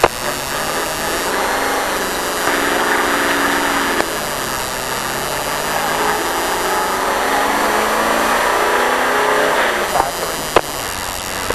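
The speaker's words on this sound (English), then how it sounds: "All right, let's go ahead and start rolling out." A race car engine revs up and shifts while pulling away on a Petty racing experience run, its loud, rising and falling drone filling the stretch with a few brief clicks, while people talk over it.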